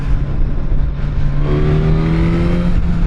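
A Suzuki GSX-S1000 four-cylinder motorcycle hums steadily close by, then its engine note climbs smoothly as it revs up partway through.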